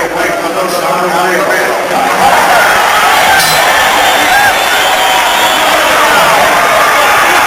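A large boxing arena crowd roars and applauds through the final round of Thomas Hearns versus James Kinchen, a loud continuous din with cheers rising over it, while a commentator talks throughout.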